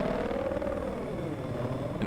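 Helicopter rotor drone from the video game Battlefield 4 on the Golmud Railway map, a steady, continuous engine hum holding at an even level for the whole stretch with no voices over it.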